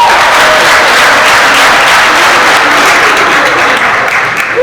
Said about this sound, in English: Lucia a huge round of applause as we get started.